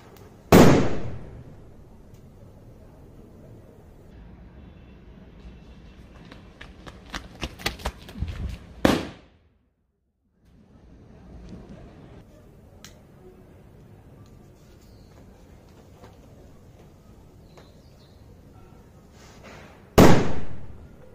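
A silver-painted 50 g Diwali firecracker goes off outdoors with sharp, loud close bangs at the start, middle and end, separated by a rapid crackling burst and quieter stretches.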